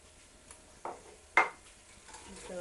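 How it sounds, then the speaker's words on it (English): Carrots, celery and leeks being stirred in a soup pot, a quiet soft sizzle with a couple of distinct scraping clunks of the spoon against the pot, no voices. "give those a stir."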